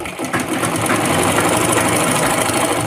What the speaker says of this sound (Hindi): बाकी हम अपने कपड़ों को एक साथ पकड़ के सिल लेंगे